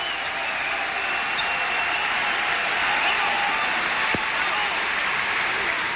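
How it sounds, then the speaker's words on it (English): Basketball arena crowd giving a standing ovation at a 1997 Kansas vs. Baylor college game, a dense, sustained roar of clapping and cheering that fills the whole stretch at steady loudness. "the crowd lets him hear it. They give him a standing ovation."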